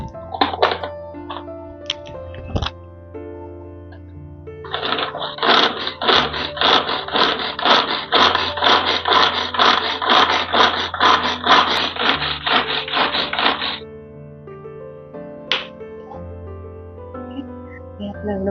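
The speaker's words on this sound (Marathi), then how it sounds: "पण चॉपर मध्ये कसं छान एकसारखं भरपूर बारीक होतं, म्हणून मग चॉपर मधनं काढून घेणार आहोत" An electric chopper finely minces raw mango for pickle with a fast run of rhythmic pulses lasting about nine seconds. Before and after come scattered clicks and handling noises over a faint tonal background.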